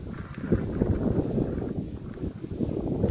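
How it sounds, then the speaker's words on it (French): Strong wind gusts buffet the microphone beside the small lake of Saint-André in Savoie, a continuous low rumbling roar with uneven surges throughout, loud and close, with no talking. "Il y a beaucoup de vent là, maintenant ça souffle un petit peu."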